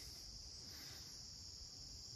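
Insects buzzing and chirring steadily along a lower-elevation stretch of the Appalachian Trail, a constant high insect drone with a cricket-like quality and faint low rumble beneath.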